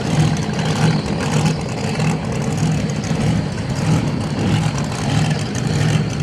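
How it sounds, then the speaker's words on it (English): A loud vintage race car engine roars continuously as it accelerates at Toronto Motorsports Park drag strip, mixed with heavy wind buffeting, without pause. "I do hear another nostalgic car coming around a corner."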